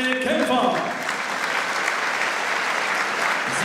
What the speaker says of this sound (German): Meine Damen und Herren, nochmal einen großen Applaus für beide Kämpfer.